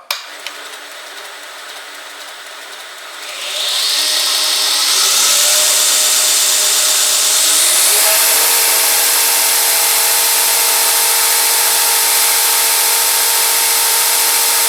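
A Northridge tool grinder spins up in stages to its maximum speed, settling into a loud, steady, smooth high-pitched whine that runs unbroken with no talking.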